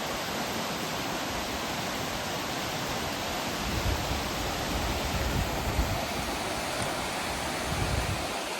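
A river in the monsoon countryside flowing strongly, heard as a continuous, loud broadband rush of water that stays steady from start to finish, with no voices.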